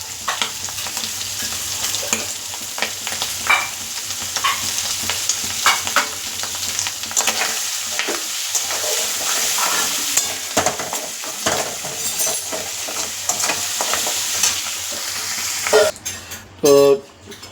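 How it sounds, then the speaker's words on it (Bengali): Continuous close sizzle of catla fish fat frying in a pan, with intermittent stirring scrapes and utensil clinks, ending in a few sharp metallic knocks. "এই কাতলা মাছের তেলটা আরো ভালো করে ভাজতে হবে"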